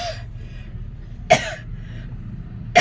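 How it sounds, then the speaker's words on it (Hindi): A woman coughs in short bursts while talking through a bridal makeup kit: two sharp, close coughs about a second and a half apart, with a low room hum beneath. "खांसी बहुत आ रही है"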